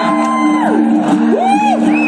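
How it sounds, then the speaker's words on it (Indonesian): Bali United supporters celebrate after a match against Persebaya Surabaya, a loud crowd shouting, whooping and cheering continuously at close range, with pitched voices rising and falling through the din. "Tepuk tangan untuk Bapak Bos Mayasa."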